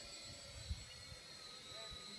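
A DIY Spider 500 hexacopter with Turnigy 2836 1000kV motors flies overhead, its motors giving a faint, steady high-pitched whine and buzz over a low rumble, with soft voices in the background.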